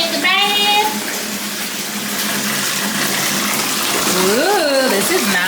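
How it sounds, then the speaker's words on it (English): Tap water steadily pouring into a bath being readied for a Mini Schnauzer puppy, a continuous loud rushing fill beneath a woman's sing-song talking voice. "I'm gonna put a little bit more cold water in there."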